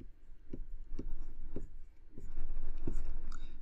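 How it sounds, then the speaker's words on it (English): A pen writes by hand on paper in a quiet room, five or six short distinct taps and strokes at close range, spaced roughly half a second apart. "I'm just going to write delivered."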